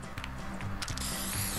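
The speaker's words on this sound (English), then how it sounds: "Oh, it's like spray paint." Spray-paint hissing from a spray can in the video game Fortnite, a short burst of airy hiss that grows steadier and continuous toward the end, heard fairly close with no talk.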